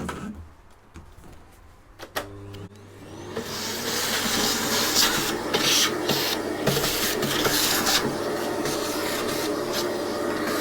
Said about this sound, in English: the bottom of this obviously needs a vacuum